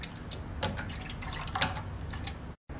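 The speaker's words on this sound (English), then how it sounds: "Then the water will come out from the machine." Water drips and trickles from the outlet tube of a ZS630 machine, a steady low wash with a couple of brighter splashes, close by and moderately quiet.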